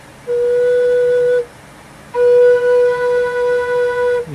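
A rivercane drone flute plays two long sustained notes with a short pause between, the second carrying a slight warble, clear and close with no talk.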